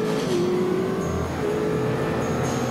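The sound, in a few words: cars driving fast in The Saboteur video game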